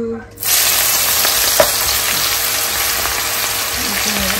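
Onion drops into hot oil in a pan for soup, setting off a loud, steady sizzle and fry that carries on unbroken, with faint stirring taps and a brief clunk partway through.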